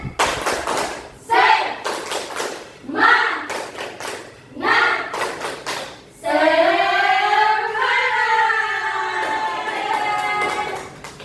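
A group claps rhythmically in the 'tepuk semangat' ice-breaking clap during a school group counselling session, sharp bursts of claps alternating with spoken and chanted voices, ending in a sustained sung or chanted passage.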